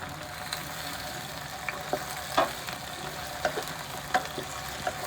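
Potatoes go into a frying pan of hot oil, a moderate steady sizzle broken by several small clattering taps and bursts as pieces land and are stirred.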